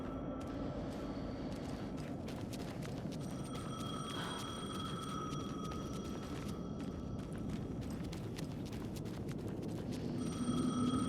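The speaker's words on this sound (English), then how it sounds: "The phone again." A telephone in Alan Wake 2 rings with repeated bright bell tones over a dense, steady rumbling background, continuing throughout at a moderate level.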